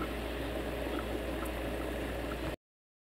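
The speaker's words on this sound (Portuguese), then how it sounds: "Vou deixar agora o meu fervendo" A pot of beans simmers at a steady boil, with a continuous bubbling, gurgling wash of liquid that stays close and even before cutting off abruptly.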